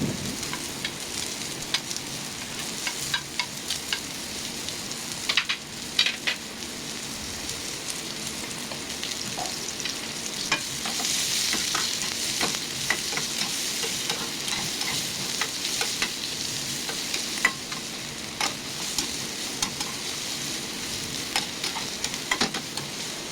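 Garlic and ginger fry in a pan for chicken biryani, giving a steady, close hiss of oil with scattered crackles and the occasional light scrape of stirring, with no voices.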